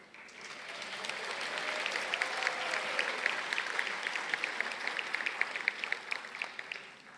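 An audience at a 2024 graduate hooding ceremony claps for master's degree graduates. The applause rises quickly and holds steady, with individual sharp claps standing out from the crowd, slightly distant in a large hall.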